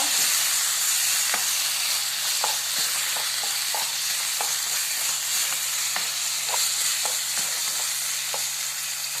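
Kanthari chillies sautéing in a hot pan, a steady loud sizzle broken by frequent scraping stirs of a spatula, close up with no talking.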